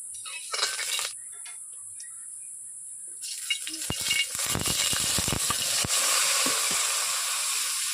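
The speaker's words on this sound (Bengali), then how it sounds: "কড়াইতে আমি তেল দিয়ে দিচ্ছি ভেন্ডিগুলো ভাজার জন্য।" Okra frying in oil in a wok over a village kitchen fire, a steady bright sizzle building after a quiet start, with scattered crackles and spatters close by throughout.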